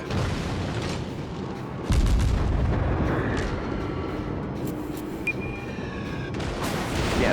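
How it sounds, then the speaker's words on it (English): Naval guns on the Erie, a tier 1 American cruiser in World of Warships, fire in deep booming salvos, one heavy blast standing out among rumbling explosions and a low roar of battle, with no talk. "I'm delivering some quite nice effective fire into the hostile ship"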